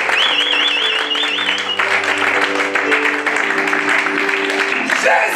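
A church congregation claps and cheers during a sermon, steady dense applause that fills the room throughout, with a sustained organ or keyboard chord held underneath and a brief whistle near the start.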